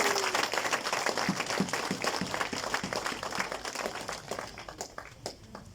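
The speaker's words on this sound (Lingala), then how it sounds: "Can you please put our hands together for him?" An audience at the Democratic Republic of Congo embassy in South Africa claps for an honoured guest, rhythmic, moderately loud applause from a modest crowd that gradually thins out toward the end.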